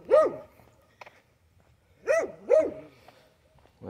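A neighbor's dog barks from behind a fence in a residential backyard: three loud, close, yelping barks, one then a quick pair after a pause, with faint clicks between and no talk.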